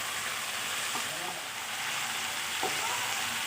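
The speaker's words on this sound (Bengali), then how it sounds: "এখন এই পেঁয়াজ আর রসুনটাকে সজনের সাথে খুব সুন্দর করে কষাবো।" Onion and garlic paste fries with moringa drumsticks for a potato curry, a steady, loud sizzle broken by soft scraping strokes as the mixture is stirred.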